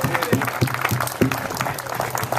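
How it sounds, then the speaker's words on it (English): An audience claps together at a branch library's opening day, a dense, steady patter of applause close by, with a voice running over it throughout. "I think you all need to give yourselves a round of applause"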